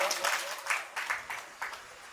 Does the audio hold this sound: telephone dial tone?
no